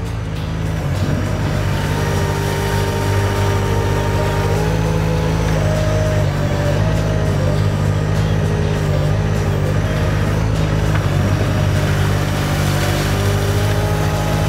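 A Weedoo aquatic weed harvester boat runs close by with a loud, steady engine drone and deep low rumble that stays constant throughout, with slight shifts in pitch as it works.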